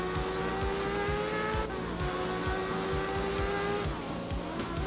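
Rally car in the video game Art of Rally, its engine droning loud and steady with rhythmic revving pulses and tire noise as it drives, no voices over it.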